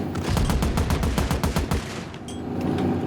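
Rapid automatic gunfire from a free-to-play shooting video game rattles out in a loud, dense burst of evenly spaced shots for about two seconds, then cuts to a brief lull.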